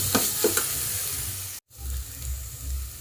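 Ginger garlic paste frying in a pan, with a steady sizzle and stirring scrapes. The sound drops out briefly near the middle, then the sizzle resumes.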